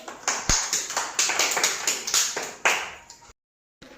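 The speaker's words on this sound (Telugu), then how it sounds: "వెరీ గుడ్ మా క్లాప్స్ కొట్టండి వీళ్ళకి" Young schoolchildren in a Grade 1 classroom clap in quick, uneven bursts of close hand claps that stop abruptly near the end, leaving a short silence.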